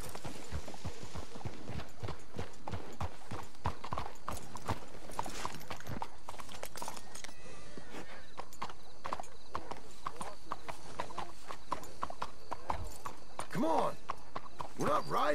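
Horse hooves clip-clop steadily on the ground in Red Dead Redemption 2, with a faint whinny late on and characters speaking quietly in the foreground over the rhythmic hoofbeats.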